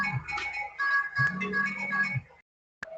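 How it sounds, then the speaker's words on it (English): Mobile phone ringing during an online training seminar, a clear melodic ringtone playing in two bursts, then a brief pause and a short blip. "I think your phone is ringing and we can hear it from here."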